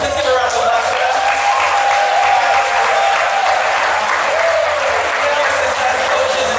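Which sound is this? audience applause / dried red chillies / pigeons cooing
audience applause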